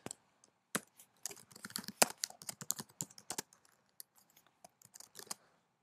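Crisp clicks of fingers on a computer keyboard entering a first and last name into a setup form, irregular bursts of close keystrokes with short pauses between words.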